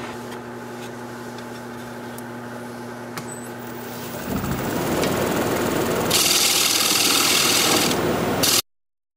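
A winged wooden bowl turning on a lathe, with a steady motor hum and a tool cutting material from the bowl; a harsh, loud rasping scrape builds at mid-clip and stops abruptly near the end.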